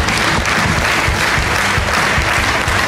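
Studio audience applause on an Armenian television show, a dense, steady wash of clapping that holds at full strength throughout, with no voices over it.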